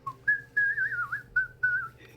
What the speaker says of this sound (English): I'm sorry if when I whistled, I realized it might have been a bit piercing